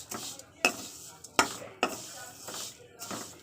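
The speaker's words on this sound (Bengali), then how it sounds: "সিমাইটা আমি ভালো করে একটু ভাজা করে নেবো" Vermicelli being fried in a pan, with metal spoon stirring strikes and scraping repeating every second or so over a soft sizzle, close by.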